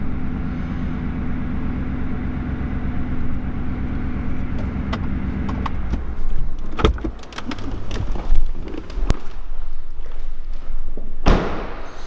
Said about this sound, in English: That actually was a cold start.